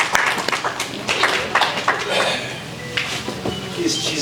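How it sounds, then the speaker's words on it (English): Audience at the Kashmir Care Foundation annual meet claps as guests are called to the stage: scattered, uneven applause mixed with clattering and nearby voices, moderately loud and fading in and out. "Huge round of applause."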